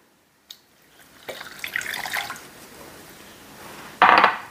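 A cup of water is poured into a pot holding two melting sticks of butter on a stovetop while making a chocolate turtle brownie cake. Faint rustling comes first, then a steady splashing pour that ends in a louder, sharp final gush.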